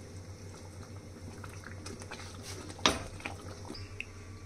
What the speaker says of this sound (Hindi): ये देखिए ग्रेवी में उबाल आ गया है